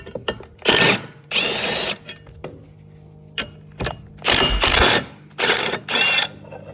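A power tool spins out 12 mm bolts on the protective plate of a Kubota RTV X1140 utility vehicle, in several loud, close bursts of whirring separated by short pauses and clicks.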